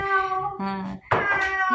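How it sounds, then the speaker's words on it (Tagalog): A pet cat meows several times in quick succession, close and clear, with a short pause between drawn-out cries. "May pusa."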